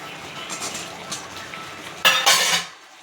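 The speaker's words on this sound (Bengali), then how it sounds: "মশলা ভাজা হয়ে গেছে 15 মিনিট। এবার পনিরটা ঢেলে দিচ্ছি।" Paneer pours into fried masala in a pan, a soft sizzle with light utensil clinks leading into a brief louder burst of sliding and scraping near the end.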